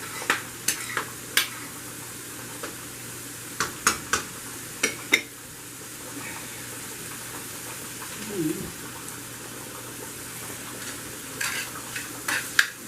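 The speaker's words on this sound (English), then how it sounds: "These stirred good so they won't burn on me. All them onions smell great." Onions and chili frying in a pot for homemade vegetable soup, stirred with repeated sharp scrapes and clicks over a steady soft sizzle, close and moderately loud.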